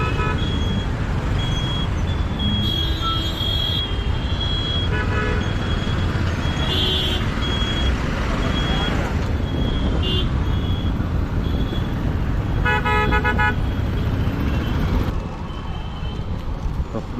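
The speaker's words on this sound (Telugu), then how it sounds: "చాలా ట్రాఫిక్ ఉందండి." Heavy road traffic rumbles continuously around a moving rider, with several car horns honking in short bursts and repeated beeps scattered throughout, some near and some farther off.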